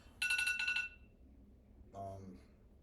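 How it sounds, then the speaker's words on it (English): A timer alarm goes off during a practice session meeting, a loud burst of rapid repeated electronic beeps lasting under a second, followed by a brief softer tone, in an otherwise quiet room. "Okay, well that's our timer."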